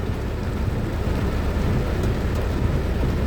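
Heavy, continuous rain pours during street flooding in Quezon City, a dense, steady roar with a rumbling low end and no break, loud and close throughout.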